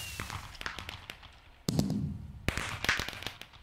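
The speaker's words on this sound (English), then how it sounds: "I just let off a firework when there's no one nearby." A firework goes off in a Minecraft mini game, sharp crackling pops and bursts in two loud clusters amid scattered clicks, with no talking.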